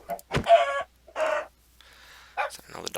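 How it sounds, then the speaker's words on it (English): Chickens clucking in the Minecraft video game, a few short clucks in quick bursts with brief gaps, close and clear. "Kill some chickens while we're here too"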